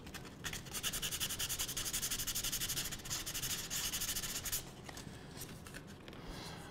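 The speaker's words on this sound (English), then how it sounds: "We can sand it down a little bit more." Thin pinhole camera plate being sanded by hand, a steady run of rapid rasping back-and-forth strokes up close, pausing briefly partway through before the scraping resumes more lightly.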